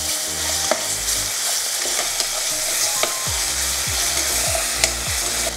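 Onions with ginger-garlic paste sizzle steadily in a pan while a spoon scrapes and stirs in a few low, sweeping strokes, the frying hiss constant and close throughout.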